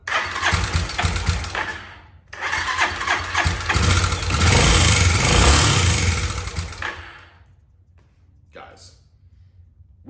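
An abandoned motorcycle's engine, choke pulled out, cranks and sputters to life, then runs rough and loud for several seconds before dropping away, with a person talking over it.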